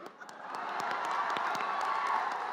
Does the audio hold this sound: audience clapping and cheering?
yes